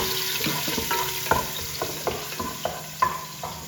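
Finely chopped garlic frying in a pan, a steady broadband sizzle broken by a series of sharp clinks and scrapes from a utensil stirring, fairly close and moderately loud with no voices.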